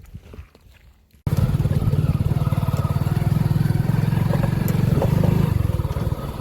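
A Swaraj tractor engine starts up after a quiet moment and settles into a loud, steady, rapid diesel chugging close by, with a faint voice beforehand.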